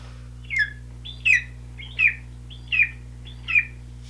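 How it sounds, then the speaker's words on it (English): A golden eagle gives five short, high, thin chirping calls spaced evenly about a second apart, clear against a quiet background with no voices. "A golden eagle sounds like this."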